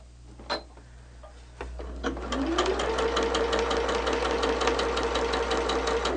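A sewing machine stitches fabric for a Christmas quilt block, a few separate clicks giving way to a steady, fast mechanical whir that runs close and loud to the end, with no talking.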